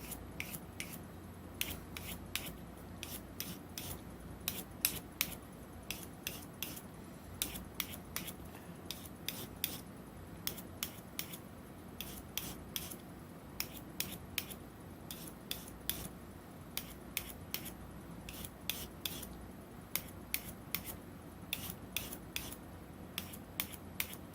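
Repeated short rasping strokes of a knife drawn across a hone, a steady run of brisk scraping passes at close range with no talk.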